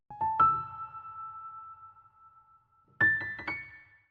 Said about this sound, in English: And after that, I added these piano accents from the kit as well.